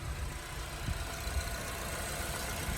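A 2015 Honda Civic engine idles steadily with a low, continuous rumble and a faint mechanical hum, running on its own without any voices.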